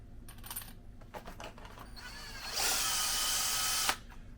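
A power trimmer spins up and trims .308 rifle brass cases, a loud whirring buzz lasting over a second and ending with a sharp click, preceded by light metallic clinks of brass being handled.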